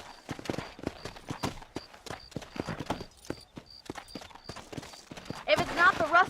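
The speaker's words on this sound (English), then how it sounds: "Let's get back on the horses and see what else is going on." Horses gallop in Red Dead Redemption with fast, rhythmic hoofbeats up close. Characters talk over the hooves, and a horse whinnies near the end.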